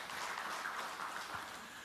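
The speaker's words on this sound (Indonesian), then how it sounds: "Yang setuju, tepuk tangan yang meriah bagi Tuhan Yesus." A church congregation applauding steadily, a dense wash of many hands clapping at a moderate distance, with no voices.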